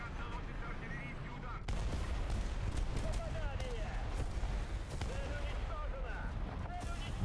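Artillery fire in a video game rumbles with dense, overlapping booms and rapid gunfire bursts, loud and unbroken throughout, with a sharper surge of blasts partway in.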